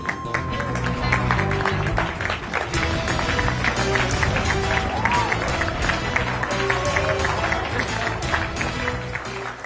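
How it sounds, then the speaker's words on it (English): Applause and crowd noise from an audience at the launch of a sports campaign, greeting actor Milind Soman on stage; steady dense clapping over music lasts throughout, loud and continuous. "on that round of applause"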